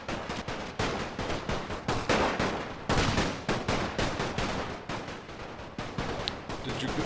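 Rifle fire rattles in a First World War strategy game, a fast, uneven run of loud cracks and volleys that repeats steadily for several seconds with no talking.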